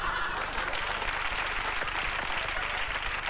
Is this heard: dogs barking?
no